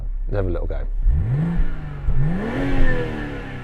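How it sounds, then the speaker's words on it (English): BMW six-cylinder engine revving up hard, rising in pitch twice toward about 6,500 RPM, loud and close after a short spoken line. "A fruity 6-cylinder engine, but the question is, does it sound so good on the inside?"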